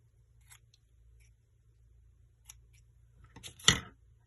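Scissors make a few quick, sharp snips while trimming a decoration on a pen, ending in a louder close cut, with quiet surroundings and no speech.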